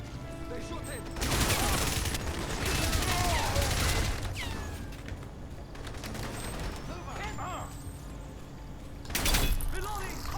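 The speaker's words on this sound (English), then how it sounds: "They shoot him." Rapid automatic gunfire in Crysis Remastered, bursts of shots crackling in the middle distance with short pauses between, mixed with game voices and mechanical noises.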